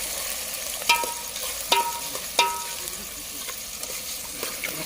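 Chopped onion and tomato hit a hot pan of frying garlic and chili, a steady sizzle with a few sharp clinks of a spoon stirring, close by and without talk.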